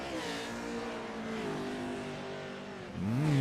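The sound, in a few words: race car engine revving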